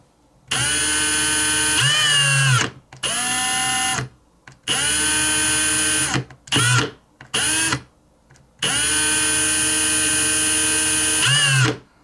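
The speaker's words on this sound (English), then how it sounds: "Let's drill this out." A small electric drill boring out a part of a Swank J2 butane lighter under repair, running in several loud, close, steady whining bursts separated by short pauses, with pitch shifting slightly as the bit loads up.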